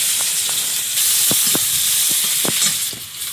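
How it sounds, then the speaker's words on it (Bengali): Panch phoron spices and chopped onion hit hot oil for a village-style taro curry, giving a loud, steady sizzle close by, dotted with scattered crackles and pops, with no voices. "তেলে পাঁচ ফোড়ন পেঁয়াজ কুচি"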